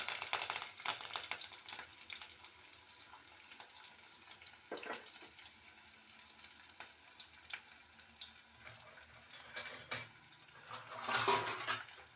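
Onion and curry leaves fry in a pan with a soft, steady sizzle, close and fairly quiet, broken by occasional stirring scrapes and a brief rush of running water near the end.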